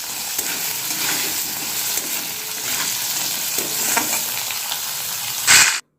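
Food sizzles steadily in a hot pan during home cooking, with scraping stirring strokes at intervals and a sharper clatter just before it cuts off.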